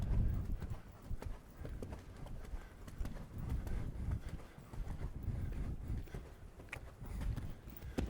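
Horse hooves clip-clop rhythmically on the ground during show jumping training, steady and fairly close, with a few faint background noises and no clear talking.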